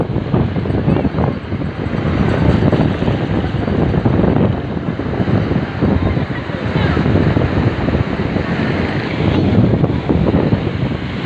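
Sea waves and strong wind at a beach in San Fabian, with steady, loud surf wash and heavy wind buffeting across the microphone throughout.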